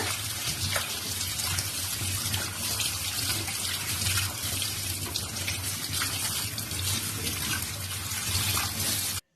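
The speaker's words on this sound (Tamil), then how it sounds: "இந்த மாதிரி நல்லா தண்ணி திறந்து விட்டு நல்லா அலசி எடுத்துருங்க." Tap water gushes steadily and loudly into a sink over meat being rinsed for several seconds, with faint handling splashes, then stops abruptly.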